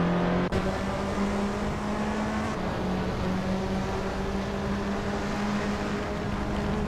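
Race cars in a racing video game roar off the start line together, a continuous loud engine drone with steady tonal whine and a brief sharp click near the start, no talk over it.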